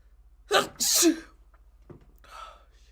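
A single loud human sneeze with a sharp intake and burst, followed by quieter breathy sounds and faint speech-like noise during a casual podcast conversation.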